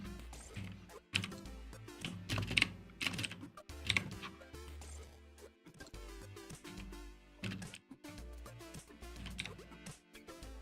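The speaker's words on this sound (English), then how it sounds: "typing in different terms in my browser to figure out the movie" Someone types on a computer keyboard in bursts of rapid, clicking keystrokes with short pauses, close and fairly quiet, with occasional heavier thunks of larger keys.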